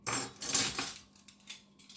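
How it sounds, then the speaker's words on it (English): Metal camping cutlery clinking and jangling together, a bright cluster of clatter followed by a few lighter, separate taps, close and alone. "So yeah, cutlery."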